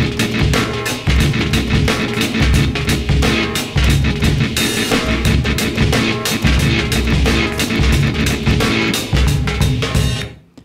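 Rapid, clipped drum hits played with two fingers on controller buttons stutter in a tight staccato pattern over a driving, loud beat, continuing steadily with no talking.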